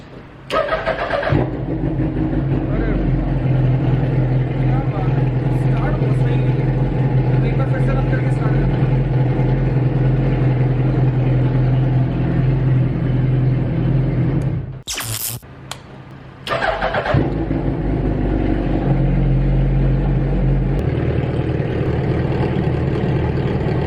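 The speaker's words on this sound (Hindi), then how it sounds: "और अब स्टार्ट करते हैं बाइक को।" A motorcycle engine starts and settles into a steady, loud idle, cuts out briefly, then fires up again and keeps running.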